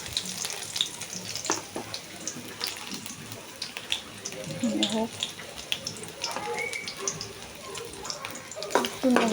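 Garlic cloves fry in oil for a bottle gourd leaf stir-fry, a close, crackling sizzle with frequent small pops, while a voice talks faintly in the background.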